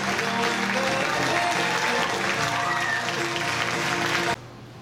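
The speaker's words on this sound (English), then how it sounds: "People are applauding." An outdoor crowd applauds at a movie release searchlight event, with steady clapping and cheering throughout that cuts off suddenly near the end.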